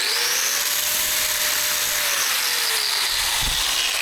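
A 13.5 amp 6-inch angle grinder runs steadily at high speed, a continuous loud whine with a slight pitch drift toward the end and no voices.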